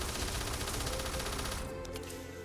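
An SMG in Starfield fires on full auto with the trigger held, a dense, loud, continuous stream of shots that thins out near the end.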